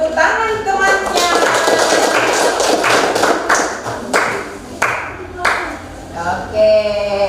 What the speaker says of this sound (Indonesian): Oke, beri tepuk tangan temannya.